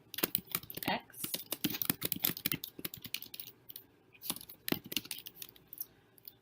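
Rapid keystrokes on a computer keyboard while typing Python code, quick irregular bursts of close clicks with brief pauses, quiet and alone.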